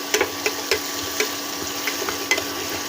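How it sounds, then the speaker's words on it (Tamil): Onions sauté in a pan for a restaurant-style chicken gravy, a soft continuous sizzle broken by a handful of sharp scraping and tapping knocks from a spatula stirring, close and without talk. "வெங்காயம் வந்து நல்லா பொன்னிறமாக வதங்கட்டும்"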